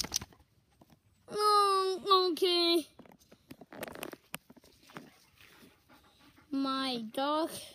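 A young dog pants and whimpers in short, high, wavering bursts, close and fairly clear, separated by quieter breathy gaps with a person talking.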